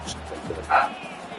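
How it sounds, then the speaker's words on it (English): A single short dog bark rings out once, fairly close, over steady background sound from a televised football game. "It's my dog bark."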